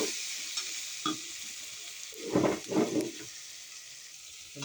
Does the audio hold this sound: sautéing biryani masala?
yes